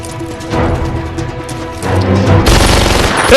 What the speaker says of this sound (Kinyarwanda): Umva amajwi y'imbunda